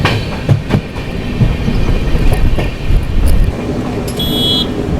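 Jan Shatabdi express train running slowly into Haveri station, wheels clacking over rail joints with a steady rumble, close and continuous, and a brief high squeal near the end.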